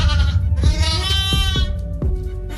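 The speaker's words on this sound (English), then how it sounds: "Huge sheep." Sheep bleating loudly and close, a string of wavering, harmonic-rich calls repeated several times with short breaks between them.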